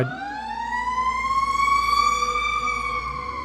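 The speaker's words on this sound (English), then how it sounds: "sorry guys, I live by a fire station, so we get sirens quite often." A fire truck siren from a nearby fire station wails steadily, its tone slowly rising and holding loud and close for the whole stretch, with no voices.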